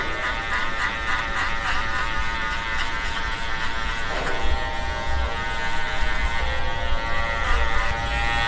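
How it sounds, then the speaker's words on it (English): An Andis Master Cordless hair clipper fitted with a 1.5 guard buzzes steadily and loudly up close while debulking hair, with a strong harmonic hum that shifts slightly as it moves through the hair. "first I'll be debulking using ANDIS Master Cordless with the attachment guard number"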